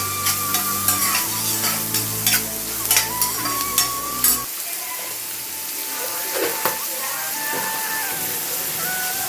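A generous batch of onions fries toward golden in a pan for a prawn thokku, giving a loud steady sizzle with rhythmic spatula strokes that then fade to a softer, quieter frying hiss.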